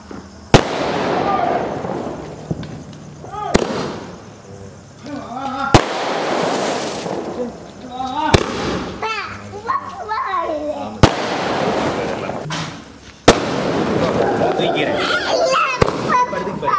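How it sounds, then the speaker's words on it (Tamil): Firecrackers burst during a home Diwali celebration: sharp cracks and bangs come roughly every two to three seconds, some close and loud, over a steady crackle and background chatter, with children's voices talking in between. "நாங்கள் வந்து பட்டாசு வெடிக்க ஸ்டார்ட் பண்ணிட்டோம்."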